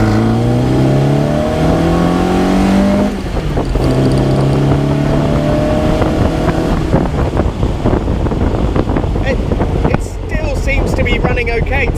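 Interior engine sound of a car with a developing misfire, recorded from inside while driving: a steady rumbling drone with shifting engine tones and wind noise, loud and continuous throughout.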